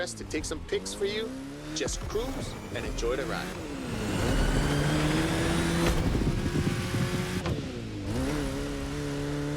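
A racing car engine in The Crew Motorfest on Hawaii courses revs and shifts gears, rising and falling in pitch with tire squeal, loud and continuous under someone talking.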